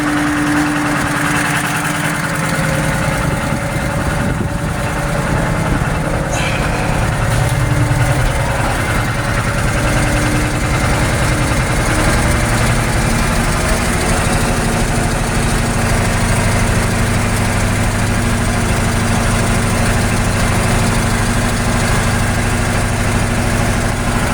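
A White 4-175 tractor's diesel engine, which has hydraulic and fuel issues, idles steadily and loudly throughout, a constant low rumbling drone with mechanical vibration and no talking.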